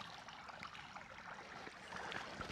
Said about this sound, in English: Tiny little waterfall.